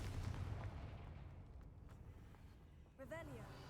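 A Confringo fire spell explodes in Hogwarts Legacy as a loud, rumbling low boom that slowly fades, followed by a sharp whooshing burst near the end.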